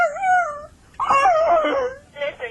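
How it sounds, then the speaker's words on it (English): A dog whimpers and whines in a close, loud run of high, wavering cries, pausing briefly before a longer drawn-out whine and a short final yelp-like whimper. "Come on, bark! Bark, you!"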